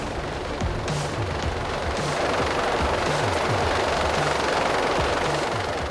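A rescue helicopter hovers close over a mountainside during the hoist of an injured hiker, its rotor thudding in a loud, rapid, continuous chop under heavy wind rush.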